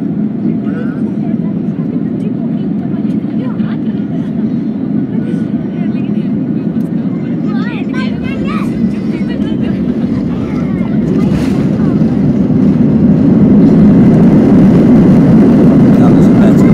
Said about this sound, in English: That was a better landing. I have just landed in Da Nang